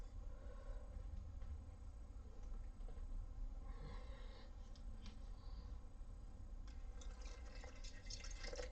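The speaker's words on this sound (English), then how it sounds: "So I'm going to add a bit of water to this." Water is added to a container of moldy dye roots for an indigo vat, a faint, steady watery trickle that runs on alone under low background noise.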